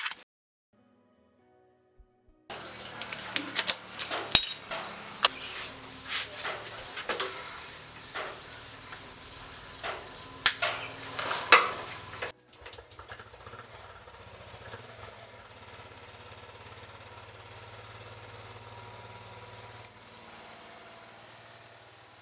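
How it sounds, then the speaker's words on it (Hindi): A Royal Enfield Bullet motorcycle is kick-started from cold: after brief silence, irregular thumping bursts and sputters build for several seconds, then settle into a steady, quieter idling rumble. "शायद मैं किक स्टार्ट से स्टार्ट करूँगा, बटन स्टार्ट नहीं करूँगा।"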